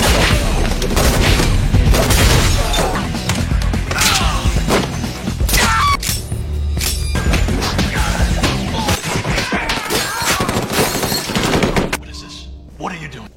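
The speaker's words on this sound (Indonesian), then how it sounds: "Bukan hanya dengan pelurunya, tapi juga senjata jarak dekat yang muncul dari gagang pistol John" Intense action scene with dense bursts of gunfire, booms, smashing impacts and scuffling blows, voices shouting in places, loud and nearly continuous.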